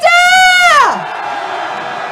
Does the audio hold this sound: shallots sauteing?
no